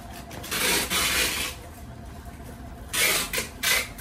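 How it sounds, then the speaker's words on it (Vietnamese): Canon Pro-1 printer running its automatic cleaning cycle after new ink cartridges go in, a close mechanical whirring and rasping that swells in two or three bursts with quieter hum between. "sau khi chúng ta bỏ mực vô ha, chúng ta nghe tiếng này nó sẽ tự động nó vệ sinh nha."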